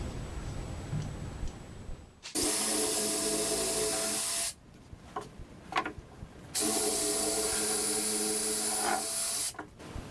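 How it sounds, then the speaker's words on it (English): A power drill bores holes through a wooden cabinet drawer front for knobs, with a wood block backing the cut: two close, loud, sustained whirring bursts separated by a quieter pause. "Then we can drill these out with a little block of wood on the inside"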